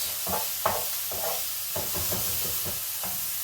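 Minced beef fries in a pan with a steady sizzling hiss, while a spoon scrapes and breaks it up in short, irregular strokes close by.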